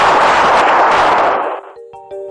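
A rapid burst of police gunfire inside a home in Seattle, loud and sustained for over a second, then cutting off into quiet with a few faint tones.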